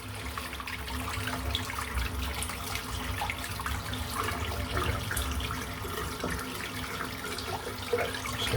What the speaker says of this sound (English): I'm just going to rinse the soap out now.